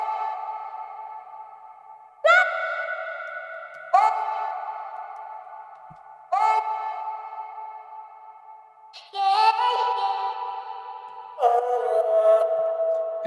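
A beat put through a parametric EQ with the highs cut and a bell cut, playing as a series of sustained synth chords that restart every couple of seconds, each hit decaying, loud and alone with no talk.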